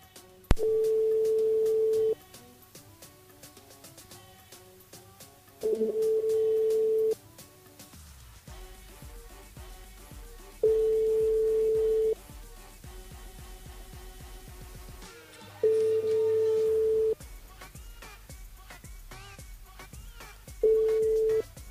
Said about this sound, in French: On appelle Aurélie.